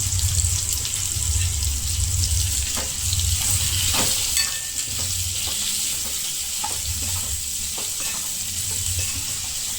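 Raw mango pieces cook in hot oil for a Gujarati jaggery and raw mango curry, giving a steady, close sizzle with occasional stirring scrapes and no talk.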